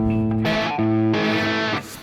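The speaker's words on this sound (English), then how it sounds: "now with the distortion, if you have a hard vibrato, then you get this typical bluesy sound from the distortion and from the bottleneck" An electric guitar played with distortion and a bottleneck slide in a blues style rings out in sustained, buzzing notes with wavering vibrato, loud and alone, with no talking.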